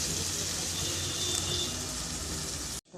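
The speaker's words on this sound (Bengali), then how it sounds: "আর একটু পানি দিয়ে দিই" A little water pours into a hot pan of fried onion, ginger and garlic for rohu fish curry, a steady close gushing splash that runs unbroken for nearly three seconds and then cuts off abruptly.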